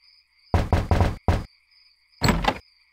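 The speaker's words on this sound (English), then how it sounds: "I think I'll knock." A door is knocked on in The Secret of Monkey Island video game: four quick, hollow raps, a short pause, then one more, loud and close over a faint steady hum.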